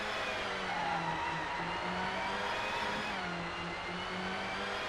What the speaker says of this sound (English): I noticed you don't like the engine noises